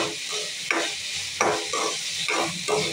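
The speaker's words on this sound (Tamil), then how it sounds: "இந்த தண்டு வதங்கணுங்கிறதுக்காக கொஞ்சம் லைட் சிம்மிலே வச்சு கொஞ்சம் நல்லா வதக்கிக்கலாம்" Stems sautéing in a pan on low heat for a chutney, a soft steady sizzle punctuated by about four distinct stirring scrapes at regular intervals, close and unaccompanied by talk.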